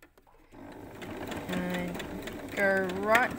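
A domestic sewing machine stitches an invisible zip into fabric, its motor whirring up after a brief silence and running steadily, with a faster, louder burst near the end; no talk over it.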